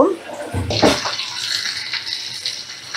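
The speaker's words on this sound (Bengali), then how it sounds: "এই কাপের 1 কাপ জল দিয়ে দিলাম।" Water poured from a cup into a cooking pan of frying mango and gram-dal mixture, a short splash followed by a steady hissing sizzle that carries on through the clip.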